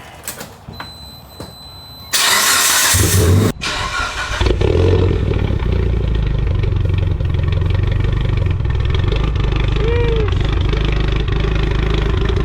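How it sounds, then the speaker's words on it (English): A Mitsubishi Lancer Evolution 8/9 engine cranks and catches at close range, then settles into a steady, loud idle rumble that continues to the end. "you're going to want to turn on your car."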